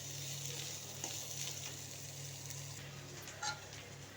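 Green chillies frying in a pan for a tangy mango dal, a steady close sizzle with a faint stir and a small clink near the end, no talk over it.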